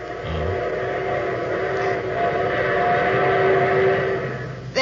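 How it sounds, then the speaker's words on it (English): A train pulls in as a radio-drama sound effect, its steady rumble and rolling wheels joined by a long, sustained whistle tone, loud and close throughout with no voices. "There's my train."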